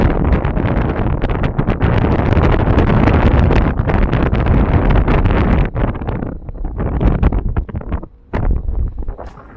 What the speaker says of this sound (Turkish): yani çok rüzgar var,